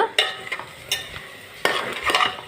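Vegetable pieces with salt, chili powder and turmeric sizzle in hot tempering oil while a spoon scrapes and stirs them in the pan, several distinct stirring strokes over a steady crackle.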